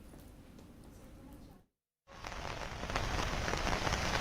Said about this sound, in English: There's been heavy rain in Vellore in Tamil Nadu as well